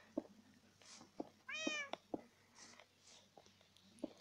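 A Minecraft cat gives a few short meows amid light clicks and taps from gameplay, faint and spaced apart over a few seconds.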